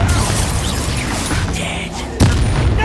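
A Confringo fire spell exploding in the Hogwarts Legacy video game: a dense, loud blast of game audio with a sharp booming impact near the end.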